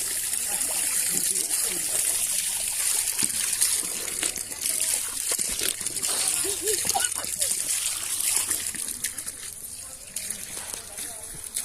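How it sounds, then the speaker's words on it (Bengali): Water pours from a tube well at an ashram in a steady trickle and splash, moderately loud and fairly close, with a person speaking over it. "টিউবওয়েল আছে টিউবওয়েল জল বেরিয়ে আসছে"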